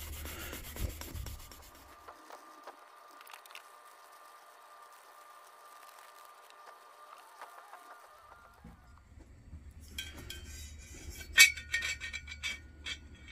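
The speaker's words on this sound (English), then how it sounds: "I'm just going to take my steel wool that has the Mother's Mag in it, and I'm just going to rough it over." Steel wool loaded with Mother's Mag polish rubs over a vintage Sears lantern, producing soft, close scrubbing that comes and goes between quieter stretches, with no voice heard.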